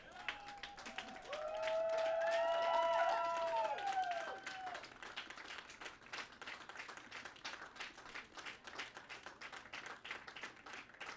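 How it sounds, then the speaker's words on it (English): Crowd at the finish line of the RAAM 2022 ultra-distance cycling race clapping steadily for racer Sebastien Sasseville's team, with whooping cheers rising over the applause in the first few seconds before the claps continue more sparsely. "How about a really loud clap and cheer for this whole team?"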